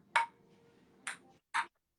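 A ping pong ball strikes a hard surface three times at uneven intervals during play, each hit a sharp, bright click standing alone against quiet.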